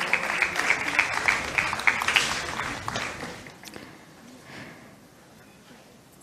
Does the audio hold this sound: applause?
yes